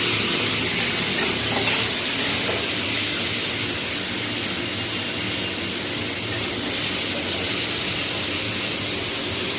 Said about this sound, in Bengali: জিরে ফোড়ন দিয়ে আমরাটা একটু ভেজে নিয়েছি হালকা করে